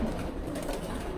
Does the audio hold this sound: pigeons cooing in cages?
yes